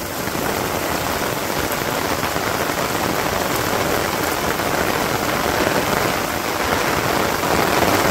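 Steady, heavy rain pours over a Bangladesh village, a dense, unbroken hiss of drops hitting surfaces that holds an even loudness throughout with no pauses.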